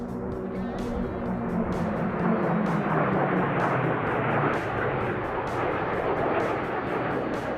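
A Meteor jet aircraft makes a high-speed pass at about 600 kilometres an hour, a loud sustained roaring whoosh with a rising and falling resonant tone, swelling as it crosses and fading slightly at the end.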